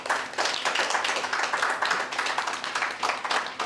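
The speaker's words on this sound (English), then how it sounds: "Let's really give a hand of applause to him." Clapping from an audience at a startup bootcamp for a speaker; a continuous, moderately loud patter of hands runs throughout without talk.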